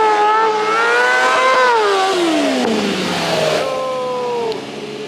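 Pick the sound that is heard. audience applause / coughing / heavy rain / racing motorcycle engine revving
racing motorcycle engine revving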